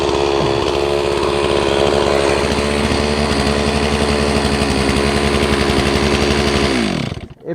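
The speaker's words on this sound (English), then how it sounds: "I'll just stick the saw back in there and run it up" A small-bar chainsaw cutting into a tree trunk toward the hinge, engine roaring steadily at high revs for several seconds, then dropping abruptly as the throttle is released and the saw winds down.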